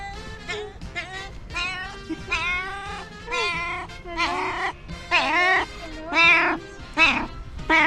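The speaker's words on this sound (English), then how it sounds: "let's just ask this cat what he thinks about it." Cat meowing repeatedly, a close, loud series of drawn-out bleating meows in quick succession, alone without talk.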